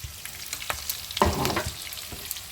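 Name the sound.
potatoes frying with turmeric and salt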